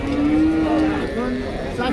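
A Jersey cow at a cattle market gives one long, loud, close moo on a rainy, cloudy day, the call wavering and tapering off, with faint crowd murmur underneath.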